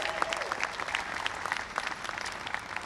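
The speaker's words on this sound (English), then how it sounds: "That's worthy of clapping some hands." Audience applause at a downtown mayoral bill-signing for the Metropolitan Improvement District renewal: a steady, fairly faint patter of many hands clapping for about three seconds.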